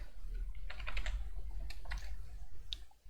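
Typing on a computer keyboard, with light, close keystroke clicks arriving in quick irregular clusters over a quiet background hum.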